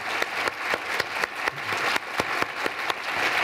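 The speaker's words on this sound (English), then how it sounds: "Please extend a round of applause." A design awards panel audience applauds the panelists in a dense, steady round of clapping with a few sharper claps standing out, sustained and fairly loud throughout.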